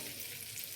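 Potatoes frying in a pan for alur dom, a soft, steady sizzle heard briefly and at low level.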